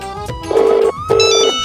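A telephone rings in a small village shop scene, two loud electronic ring bursts in steady rhythm, close and clear with no talk over them.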